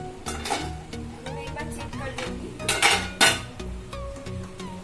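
Carrot halwa being stirred in a pan, a spoon scraping and clinking against the metal in irregular strokes, close and fairly loud, with a couple of sharper knocks.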